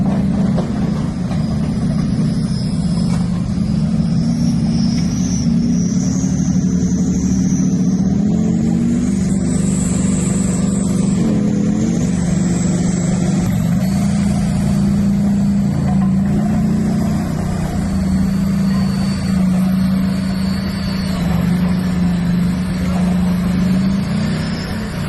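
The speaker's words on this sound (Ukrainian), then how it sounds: "українська армія, танки, військова техніка, військові автомобілі з особовим складом почали виїжджати з казарм в Києві і опинилися в київських заторах разом з цивільними автомобілями" Heavy military vehicles and tanks moving through a Kyiv traffic jam among civilian cars, a steady low engine rumble with idling and occasional revving, loud and continuous throughout.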